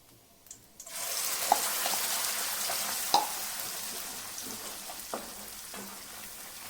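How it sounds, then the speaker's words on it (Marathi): Spice paste sizzling as it is sautéed in hot oil with cumin seeds for a Maharashtrian fasting-platter dish, a steady close fry with a few sharp spatula scrapes and clicks, no talk. "मिक्स करायचं वाटण छान परतून घ्यायचे"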